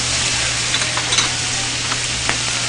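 Mussels, clams and tomatoes hit a hot garlic pan and sizzle steadily, a dense continuous frying hiss with a few stirring clinks and pops, loud and close throughout.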